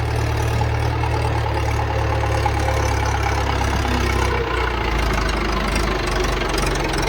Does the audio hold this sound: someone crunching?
no